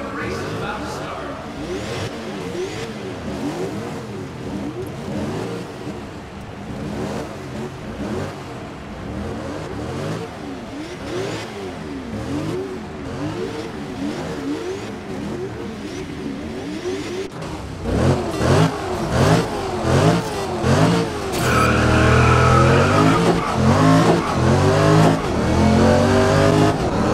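Race cars in the Grid video game, including a Chevrolet Camaro Super Tourer on a Shanghai city circuit, rumble and rev steadily before the start, then roar louder as they accelerate away together.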